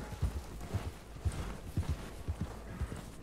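Horse hooves clip-clopping in a video game, a steady, close rhythm of distinct hoof strikes at a trot, with little else in the background.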